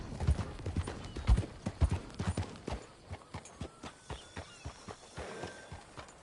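Horse hooves clip-clop in a steady walking rhythm in Red Dead Redemption II, heavier and denser at first, then settling into evenly spaced, moderately close footfalls.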